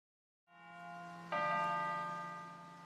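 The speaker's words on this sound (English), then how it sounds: "I think there's a bell in the top of that tower" A single church bell in a tower rings out in the video game Tales of Graces f, a clear sustained tone that is struck again partway through and then slowly decays.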